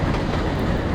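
Simulated train rolling toward Manamadurai Junction on the Sivaganga–Rameswaram line in Trainz Simulator, a steady low rumble with no pauses, close and moderately loud throughout.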